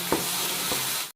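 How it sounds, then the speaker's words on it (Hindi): Ginger and garlic fry with tomato in a pan, giving a steady close sizzle broken by a couple of brief stirring scrapes, then cutting off abruptly. "तो मैंने ये रहा अदरक लहसुन थोड़ा सा डाल दिया है। तो इसको थोड़ा सा हल्का भून लेते हैं"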